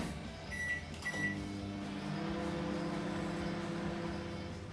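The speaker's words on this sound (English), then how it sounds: "we're just going to melt them together in the microwave." A microwave oven melting cream cheese and butter hums steadily after a couple of short beeps and a door click, its low drone continuing evenly throughout.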